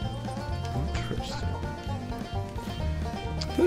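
In the Battlefield 1 video game a horse whinnies and its hooves clop in rhythmic steps amid tonal game sounds and effects, with a brief louder burst at the end.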